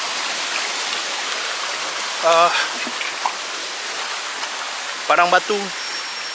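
Steady rushing water from the Padang Batu waterfall on a Kuala Rompin hike fills the background as a broad, continuous roar, with someone speaking briefly over it twice.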